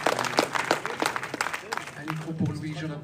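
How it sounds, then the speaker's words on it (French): Audience applause at a French regional leadership event, heard as scattered claps beneath a voice speaking, moderately quiet and uneven. "On peut les applaudir très fort."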